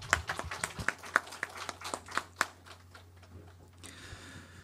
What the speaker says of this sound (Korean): 네, 축가를 준비하신 분들께 다시 한번 큰 박수 부탁드립니다.